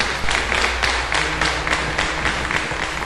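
Church audience applauding steadily at a worship service, a continuous wash of clapping with pulsing swells over about three seconds, moderately loud, with no voices standing out.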